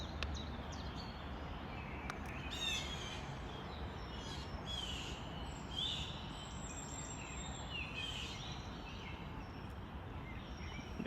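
Steady chorus of parent birds and chicks calling and chirping in the high range at daybreak, with a constant outdoor background hiss and no voices.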